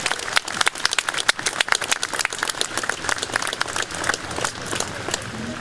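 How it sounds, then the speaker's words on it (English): Spectators at a Memorial Day parade in Shrewsbury, Massachusetts clap outdoors in a steady, dense patter with sharp individual claps standing out, sustained for several seconds. "Please give yourselves a round of applause."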